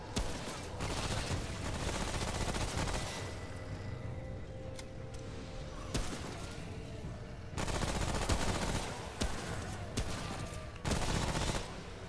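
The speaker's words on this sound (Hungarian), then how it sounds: "Próbálok hunting rifle-lel lőni" Rapid gunfire from a rifle in the video game Remnant: From the Ashes, loud, dense bursts of shots repeating in several bursts with brief lulls between, no talking over it.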